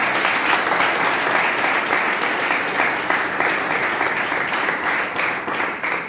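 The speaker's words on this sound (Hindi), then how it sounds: "तालियां होनी चाहिए." Steady, dense applause from a polytechnic college audience at a self-reliance talk, a continuous even roar of many hands clapping without pause for several seconds.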